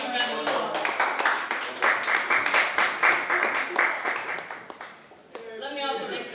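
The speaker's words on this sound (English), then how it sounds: "Can we please give them a round of applause?" Round of applause from the audience at a media fellowship exhibition, crisp clapping from a modest crowd that fades out, then speech resumes.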